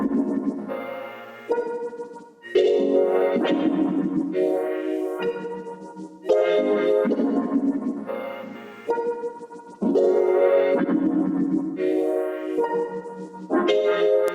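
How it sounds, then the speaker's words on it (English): Layered piano melody played in a beat production, processed with a halftime effect and console EQ, heard alone as sustained chords and notes in phrases without any talking. "the effects that I added for the piano was some halftime"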